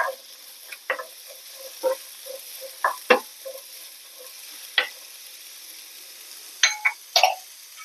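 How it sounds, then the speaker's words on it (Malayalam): Chopped beetroot tossed into a hot pan for a millet pulao, giving a quiet sizzle broken by several sharp stirring clatters and scrapes against the pan. "ചൂടായിട്ടുണ്ട് ഇതിലേക്ക് നമുക്ക് മുറിച്ച് വെച്ചിരിക്കുന്ന ബീട്രൂട്ട് ചേർത്ത് കൊടുക്കാം"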